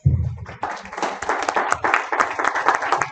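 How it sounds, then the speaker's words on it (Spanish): Audience at an environmental education congress breaking into applause, a dense patter of many hands clapping close and steady for a few seconds after a short opening sound. "reafirmemos ese aplauso, por favor, para David Valladares y Perla Sánchez"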